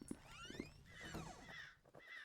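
A crow caws a few times in harsh, drawn-out calls in the video game Pumpkin Panic, fairly close and clear over a quiet background.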